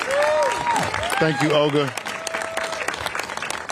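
Applause from a crowd at a San Francisco rally for immigrant communities, greeting a supervisor. A broad wash of clapping runs under a short spoken thanks and fades toward the end.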